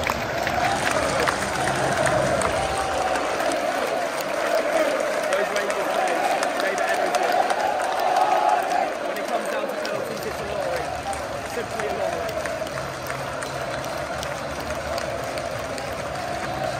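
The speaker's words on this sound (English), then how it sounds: "Respect to these Frankfurt fans clapping on the Rangers team to collect their second place medals." Football crowd at the Europa League final between Eintracht Frankfurt and Rangers, with Frankfurt supporters applauding the Rangers team as they collect runners-up medals; a dense, continuous roar of stadium noise and clapping, loud and steady throughout.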